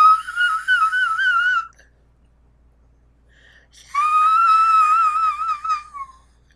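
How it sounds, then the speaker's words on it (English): Two phrases of wavering, melodic human whistling, one near the start and one after a pause of silence, clear and close with no talking. "whistles are weak tonight"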